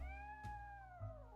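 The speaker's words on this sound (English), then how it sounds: "That's the cat Molly wants me to catch." A cat meows twice in the Nancy Drew game Lights Camera Curses, a drawn-out, falling wail followed by a shorter second call, fairly quiet and with no voice over it.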